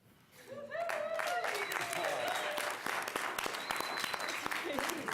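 Burst of applause and cheering from friends and family at an Orange County Board of Commissioners meeting, dense clapping rising after a short quiet start with scattered whoops and voices mixed in.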